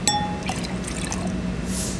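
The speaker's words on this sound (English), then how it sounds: "I'm adding the juice of the organic lemons." Fresh organic lemon juice pours into apple lemonade, a light liquid trickle with faint drips and glassy clinks, close and steady.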